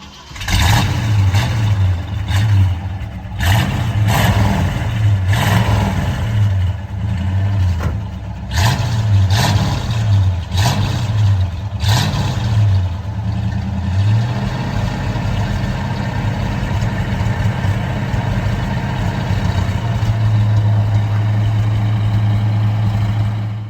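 A 1970 AMC Javelin SST Trans-Am engine revs in several loud bursts, climbing and falling over a rumbling idle, then settles into a steady, even idle. The car is close and there is no talk.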